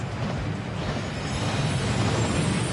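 A waterfall in a Hogwarts video game roars as a steady, dense wash of rushing water, broadband and constant throughout, with no speech over it.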